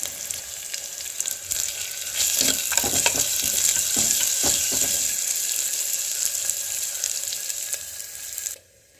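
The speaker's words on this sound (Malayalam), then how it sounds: "എല്ലാം കൂടെ അതിനകത്ത് ഇട്ട് കൊടുത്തിട്ടുണ്ടെങ്കിൽ ഒന്ന് വഴട്ടിയെടുക്കാം" Dried red chillies, curry leaves and crushed spices sauté in a pan with a steady, close sizzle and repeated scraping stirs, ending abruptly near the close.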